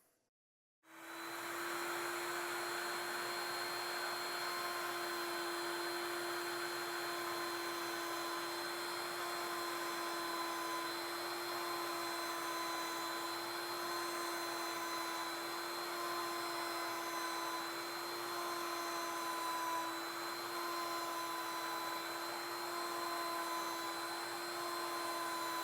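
A router table spins up and runs steadily while cutting a circle in wood, a loud continuous high-pitched whine with a strong steady tone that starts abruptly and holds for the whole stretch, no talking.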